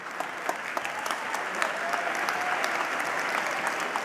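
Large audience at a UN plenary opening session giving sustained applause, dense and even clapping from many hands filling the hall, with a faint voice murmuring underneath.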